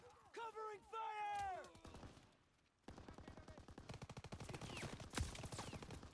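Rapid bursts of machine-gun fire from a World War II battle in Call of Duty WW2, sustained and loud through the second half after a brief lull, with shouted voices and harmonic effects early on.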